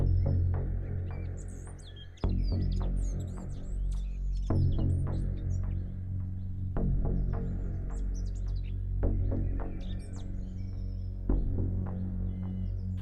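Small birds chirping near a park bench, light scattered tweets over a steady low hum, with soft periodic thumps recurring every couple of seconds beneath them.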